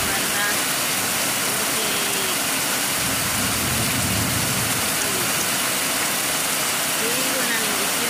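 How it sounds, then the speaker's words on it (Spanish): Heavy rain pours down steadily as a loud, unbroken hiss for the whole stretch, with a voice speaking underneath it. "una bendición que Dios ha mandado, que es la lluvia"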